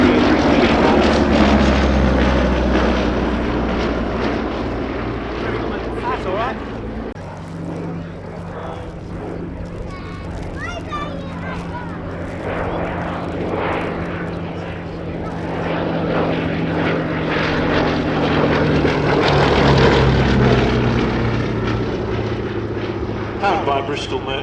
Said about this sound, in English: Powered by Bristol Mercury air-cooled radial engine